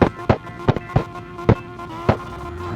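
A 1969 Nissan 180SX drift car at a competition round bounces hard off the rev limiter, giving loud, close, sharp popping bursts at an uneven rhythm over a steady engine drone.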